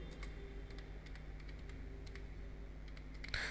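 Keys clatter on a computer keyboard as a cash withdrawal narration is typed into Tally accounting software, a quick run of light, close clicks in short bursts over a low room hum, ending with one firmer keystroke.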